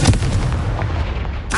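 A Confringo blasting spell goes off in Hogwarts Legacy on PS5, a loud close boom with a rumbling low tail, followed by a sharp magical crackle near the end.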